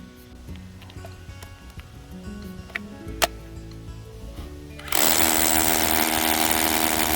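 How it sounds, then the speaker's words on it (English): After a few seconds of quiet tapping and clicks, a hammer drill kicks in loudly and keeps grinding steadily down into concrete at close range. "I'm going to drill with a hammer drill down into the concrete"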